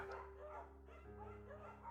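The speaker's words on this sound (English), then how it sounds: "There's a scruffy, undersized beagle." Scruffy, undersized beagle barking in the video game Firewatch, a few yips and barks at moderate level over a steady low hum of background music.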